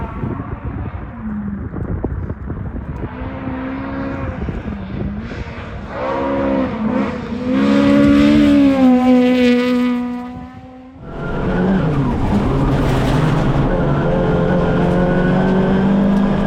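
A car engine revs hard at full throttle, its pitch climbing through the gears with a brief dip at a shift before it builds again. The sound is loud, close and continuous, with no voices.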